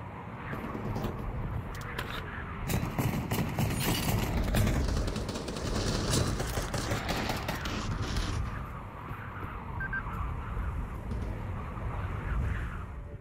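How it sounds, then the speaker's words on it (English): Video game gunfire crackles in dense, overlapping bursts against a steady roar of background noise, sustained and fairly busy throughout. "Why are you shooting at me?"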